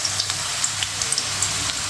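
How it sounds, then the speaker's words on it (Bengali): Bitter gourd pieces fry in hot oil with a steady, dense sizzle broken by scattered small pops and crackles, close and continuous with no voices. "একটু লাল লাল করে আমি করলাটা ভেজে নিব"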